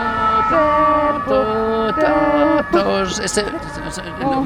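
A voice imitates an ambulance siren with a repeated two-tone wail, loud and close, ending in trailing chatter.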